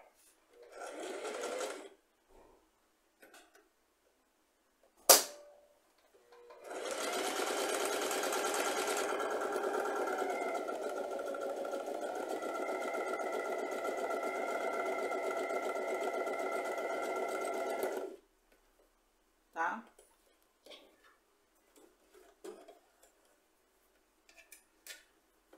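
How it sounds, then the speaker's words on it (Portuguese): A sewing machine runs steadily for about ten seconds, stitching a seam along a sewing guide with a fast even whir, framed by brief clicks and handling sounds before and after. "E nós vamos fazer a nossa costura até o final, tendo sempre o guia de costura em cima da linha."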